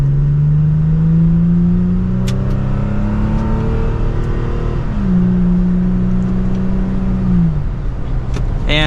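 A 2023 Toyota Tacoma TRD Pro pulls hard in second gear, its engine droning loud and close from inside as the pitch climbs steadily, eases briefly, then rises again over a constant road roar.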